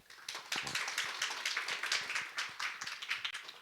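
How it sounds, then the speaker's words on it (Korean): Sustained applause from an audience at an architecture design talent program showcase after a presentation, a dense, steady wash of many hands clapping that holds throughout. "멋지게 발표해주신 황남인 님에게 다시 한번 큰 박수 부탁드립니다"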